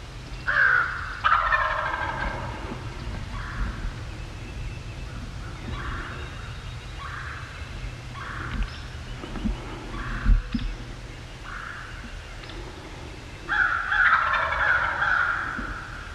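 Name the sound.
wild turkey gobbling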